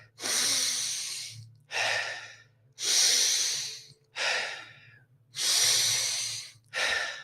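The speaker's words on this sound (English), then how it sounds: "Breathing in full lung and filling our chest and then letting it go." Deep full-lung breaths during a breathwork session, close and loud, alternating long hissing inhales and exhales in a steady rhythm of about six breaths, with a low hum beneath and no talking.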